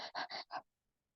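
A voice imitates a thirsty dog panting: four quick, loud, breathy huffs in steady rhythm, close up, followed by silence.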